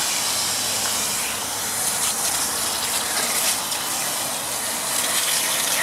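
Water from a hose rushes steadily through an RV tank line, a continuous broadband gush and hiss with no pauses and no voices.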